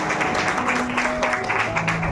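Audience applause for the second-prize winner at a cooking competition in Shrivardhan, a steady, dense clapping that holds for the whole stretch with light voices mixed in.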